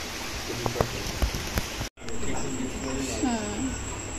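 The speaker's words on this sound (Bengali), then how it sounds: "গুড়ি গুড়ি গুড়ি গুড়ি বৃষ্টি পড়ছে টিপ টিপ করে।" A light monsoon drizzle patters steadily outdoors, a soft, even hiss of fine raindrops with a few faint distant sounds mixed in. A voice talks quietly over the rain.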